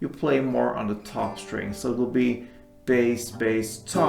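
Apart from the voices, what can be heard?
No everyday noises stand out.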